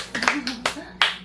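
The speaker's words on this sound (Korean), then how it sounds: "박수." A short burst of hand clapping during an English vocabulary class, a few quick close claps mixed with a voice speaking over them.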